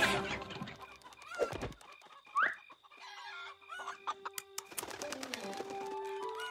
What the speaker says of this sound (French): Vous êtes de gentilles petites poules.